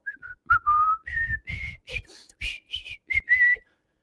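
Someone whistles the Father Goose theme song, a short, bouncy melody, a run of clear notes rising and falling with brief pauses between phrases, close and alone.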